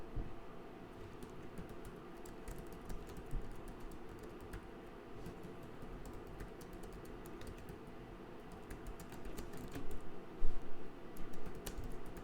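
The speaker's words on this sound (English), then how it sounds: "So I'm just typing here to post your first name" Quiet, steady typing on a computer keyboard, a continuous patter of light key clicks that grows busier near the end, with no voices.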